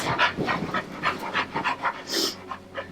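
An agitated dog pants rapidly in rhythmic, close breaths, with a brief high whimper partway through and no talking.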